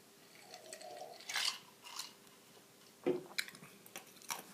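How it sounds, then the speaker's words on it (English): Someone chewing on ice close to the mic, with several crisp crunching bites spread out among quieter chewing, faint and intimate. "Chewing on some ice."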